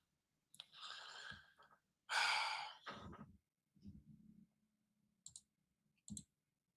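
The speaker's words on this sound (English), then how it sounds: "It's more heavy breathing." Heavy breathing on an old archive recording: a few loud, close exhales and sighs separated by silence, with faint clicks and a low hum.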